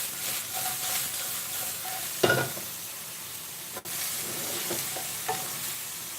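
Lamb curry for a Malaysian dish sizzles gently in a pan, with a few soft scraping stirs and a brief clatter, quiet and close with no talking.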